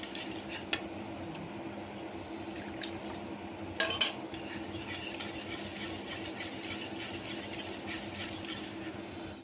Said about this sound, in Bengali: এইভাবে দুধ দিয়ে মিশাতে থাকবো